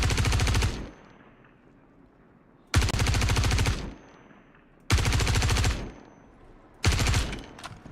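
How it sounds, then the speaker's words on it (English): An NPC fires a shotgun in a video game, heard as four loud bursts of rapid gunfire, each lasting under a second and separated by short quiet gaps, with no talk. "there's an NPC with a shotgun"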